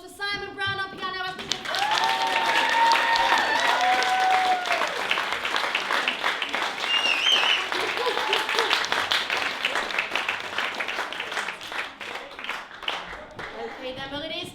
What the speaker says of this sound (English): can we have a massive round of applause for Simon Brown on piano?